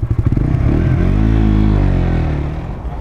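A Suzuki GSX-S 125 motorcycle accelerates hard toward 100 km/h, its engine rising in a loud, continuous, close-up drone with a brief stuttering rev at the start.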